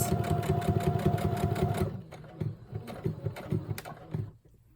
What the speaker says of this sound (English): So we're just going to do a straight stitch because I'm afraid I'll run out of bobbin if I do anything else.